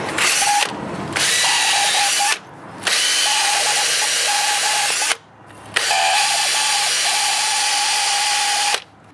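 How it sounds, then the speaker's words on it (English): A worn Ryobi cordless drill with a wire brush whirs loudly in long sustained bursts with a slight whine, stopping briefly three times between runs, grinding steadily against a rusty Mercedes C63 AMG brake disc. "wire brush the disc with a slightly unhealthy Ryobi cordless drill"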